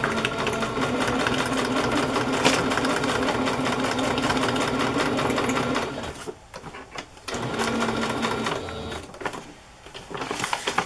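A domestic sewing machine runs a straight stitch through craft journal pages, a loud, fast mechanical whir that stops briefly near the end and restarts in short bursts.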